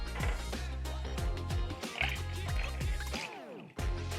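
Cold brew Jamaica agua fresca is poured into a glass, giving a close, continuous liquid gurgle with rising filling tones and a few splashes, ending in a brief slosh.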